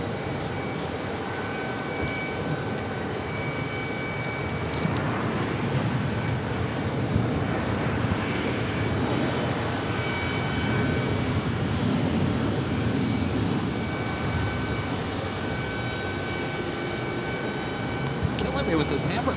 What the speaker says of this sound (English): KLM flight 642 heading back to Amsterdam. 787-10 Dreamliner also heading to 22 right.